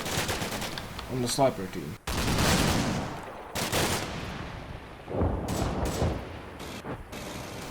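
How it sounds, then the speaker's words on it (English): Suppressive fire from two BTR armored vehicles in the Combat Mission: Black Sea wargame, heard as bursts of automatic gunfire and loud impacts punctuated by short pauses, with a voice talking over parts of it. "The two BTRs on this flank have begun providing suppressive fire"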